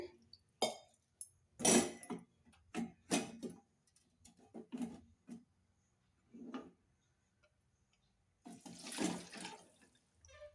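Cold water is poured off rinsed vermicelli through a strainer in several short splashing bursts, with light clinks of the pot in between, then a longer final pour; close and fairly quiet.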